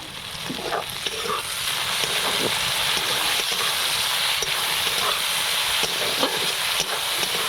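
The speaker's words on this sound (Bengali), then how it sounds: "এখানে পেঁয়াজটা প্রায় ভাজা হয়ে এসছে" Onions fry in a pan with a constant loud hiss and crackle, with occasional scraping taps of a spatula stirring them.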